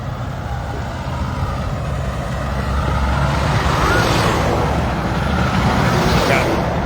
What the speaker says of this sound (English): Got 3 dump trucks flying past me